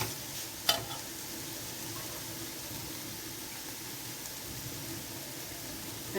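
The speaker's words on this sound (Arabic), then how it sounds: "نقلب كده كله في بعضه عشان ريحه" Meat and spices fry for kabsa while being stirred in a pan, a steady close sizzle with one sharp utensil clatter early on and a continuous hiss throughout.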